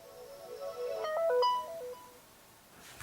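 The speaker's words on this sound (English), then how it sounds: "we do have those familiar Vienna Boys Choir ringtones or notification tones that we're familiar with on the LG G2" The Vienna Boys Choir-style notification tone on an LG G Pad 8.3 tablet plays a short, clear melodic phrase of bright stepped tones. It stands alone and rises and then fades against a faint room hiss.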